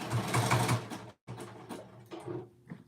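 A home sewing machine stitches down a garment seam in fast, steady mechanical bursts, with a short pause and then a slower restart as the stitching is backtacked at the start and end.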